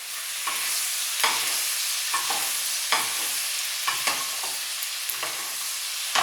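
A veal chop sizzles steadily in a pan, with regular scraping spoon strokes roughly once a second as hot fat is basted over the meat; close and continuous, with no talking.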